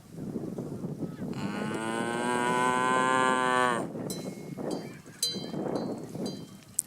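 A man imitates a cow with a long, drawn-out mooing call, loud and close, near cattle at Velika Planina in Slovenia, followed by faint outdoor sounds and a brief laugh.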